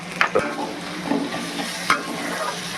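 Onions fry in ghee with a light salt seasoning for a chicken do pyaza, giving a continuous close sizzle with occasional sharp scrapes and clicks of stirring, and no talking.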